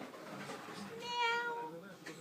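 A cat gives a single drawn-out, wavering meow, fairly soft and close, over faint background voices and room noise.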